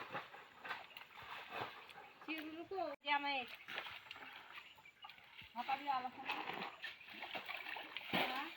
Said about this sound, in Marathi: इकडे बायका बघा ढव उपसतायत